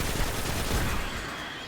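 Dense, continuous gunfire from a shooter game blends into a loud, unbroken roar that eases toward the end. Individual Icebreaker sniper rifle shots cannot be picked out.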